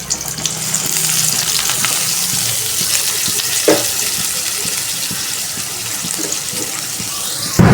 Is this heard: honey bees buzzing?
no